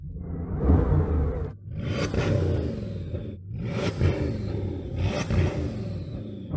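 A Bugatti Chiron hypercar in sport mode revs hard while stationary, giving three loud, rising engine bursts with whooshing peaks and short dips between them.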